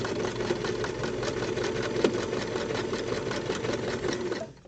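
Sewing machine stitching straps along a seam line for a grab handle, a steady rapid mechanical whir with fine regular needle ticks, close and continuous, fading out at the end.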